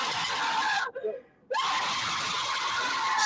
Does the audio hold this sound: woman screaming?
yes